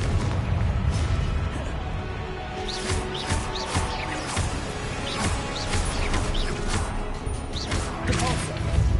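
Confringo fire spell explosions in the game Hogwarts Legacy crash and boom amid a dense, chaotic battle din, with bangs and impacts layered over continuous effects and voices.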